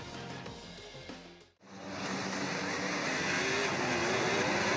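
Racing cars on a circuit set off on the formation lap: after an engine revs and briefly drops away, a loud, steady engine roar rises and holds, close and sustained.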